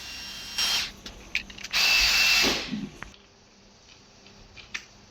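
An AKAIDO angle grinder fitted with a thin green cutting disc whirs up in two short high-pitched bursts, the second one longer, then winds down into quiet room tone with faint clicks.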